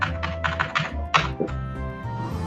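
Rapid keystrokes on a computer keyboard while entering Linux terminal commands, a close, clattering run of taps with short pauses between bursts and a low steady background hum.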